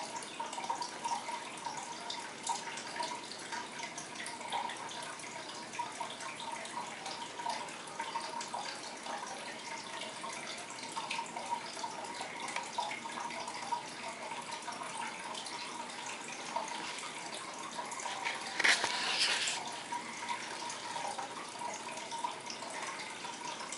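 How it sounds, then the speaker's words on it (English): Water in a fish tank trickles and burbles continuously at a low, steady level, with a brief louder splash near the end. "I can hear the water in the fish tank"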